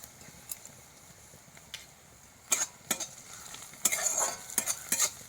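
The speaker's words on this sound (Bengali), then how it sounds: "আদা রসুন ভাজা হয়ে গেছে।" Chopped ginger and garlic fry in oil with onion and green chilli in a kadai, a steady background sizzle punctuated by repeated crisp spatula scrapes that come faster in the second half.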